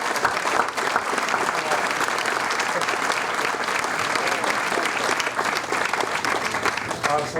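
Large crowd at a high school anniversary celebration kickoff applauding donors, sustained dense clapping that fills the room at a steady loud level from start to finish.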